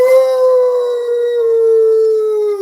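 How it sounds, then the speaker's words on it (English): A single long, loud howl from a feral dog, sustained and wavering slightly in pitch, with no other sounds around it. "Immediately, it gets quiet and you hear a howl."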